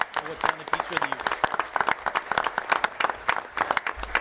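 Applause from an audience at a school board meeting honoring a teacher of the year: a moderate, uneven patter of individual claps from a modest crowd, fairly close.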